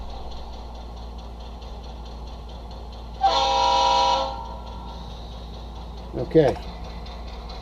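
A locomotive horn from a model-railway sound decoder plays through an iPhone 6S Plus speaker, a single steady blast of about a second over a faint hum, followed by a brief spoken word.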